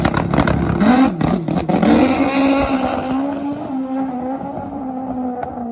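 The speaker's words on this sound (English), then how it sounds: "Now Dustin's going to make a run. This is a Nitrous Suzuki GS" Nitrous Suzuki GS drag bike making a run down the strip, a loud engine roar that revs hard at launch, then steadies into a sustained high drone fading as it pulls away.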